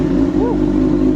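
A 2011 Kawasaki ZX-6R supersport motorcycle with a custom exhaust, its engine already running at a loud, steady idle with a brief rising rev in the middle, close by and continuous throughout.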